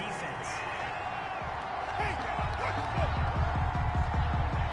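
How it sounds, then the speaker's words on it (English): Stadium crowd in Madden 21, a Patriots at Steelers game, reacting to a penalty call with a sustained roar of jeers and murmurs, a steady dense wash under commentary voices. "Well, this crowd does not like that call."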